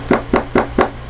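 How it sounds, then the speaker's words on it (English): Four sharp, evenly spaced knocks bang on a door in quick succession, loud and close, recorded on a doorbell camera. No voices are heard. "You banging at the door."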